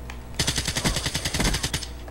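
Rapid automatic gunfire from a weapon in the video game Black Ops 3 on PS3: a fast, steady burst of about twenty loud shots in even rhythm, heard alone with no talk.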